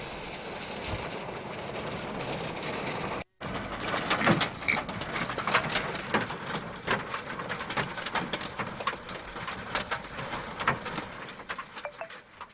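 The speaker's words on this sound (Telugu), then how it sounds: "నిజామాబాద్ జిల్లా బాల్కొండలో వడగండ్ల వాన బీభత్సాన్ని సృష్టించింది" Heavy hailstorm rain in Balkonda, Nizamabad district, drumming steadily and densely with sharp clattering impacts throughout, after a brief dropout early on.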